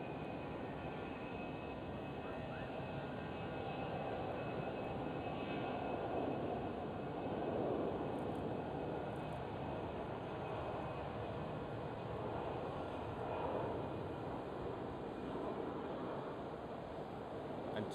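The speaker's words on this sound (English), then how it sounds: "Well, EasyJet is departing." An EasyJet airliner departing Schiphol Airport in Amsterdam, a steady, faint, broadband jet roar that holds evenly without a clear peak, sounding far off and without talk.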